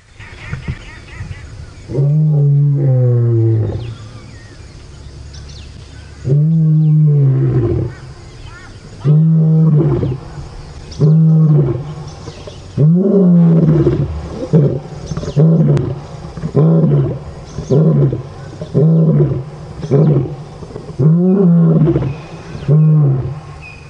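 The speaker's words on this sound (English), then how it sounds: "that's our male lion telling everybody this is my territory" A male lion on safari delivers a long territorial roaring bout: a few drawn-out moans, then a series of shorter, rhythmic grunting roars that fade toward the end, loud and fairly close.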